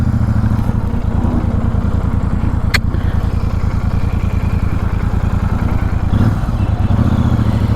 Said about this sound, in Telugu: ఇంజన్ చాలా స్మూత్ ఉంది.